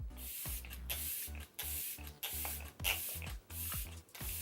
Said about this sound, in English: Kat Von D setting spray.